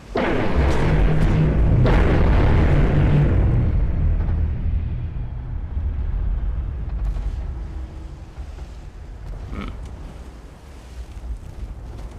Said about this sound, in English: Let's see how well this destroyer handles a ramming